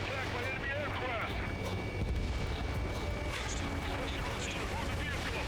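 Anti-air gunfire and explosions rumble through a battle in the flight game Ace Combat 7, a faint, continuous din of bursts and booms with voices talking over it.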